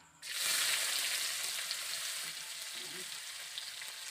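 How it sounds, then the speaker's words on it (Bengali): Chopped onions hit a hot pan with cumin seeds already in the oil, bursting into a loud, close, steady sizzle that eases slightly after a couple of seconds and keeps frying without any talk. "পেঁয়াজগুলোকে আমি ভালো করে ভেজে নেব"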